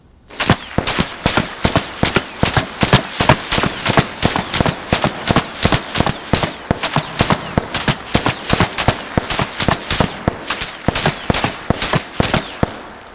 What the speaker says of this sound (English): This is the main SATYR rifle from a distance. Firing.